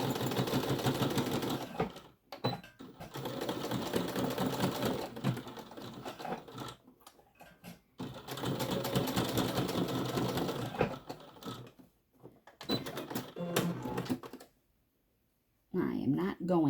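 Sewing machine stitching fabric for a homemade credit card pouch, running in steady rapid bursts separated by short pauses, close and fairly loud, with a person speaking at times between runs.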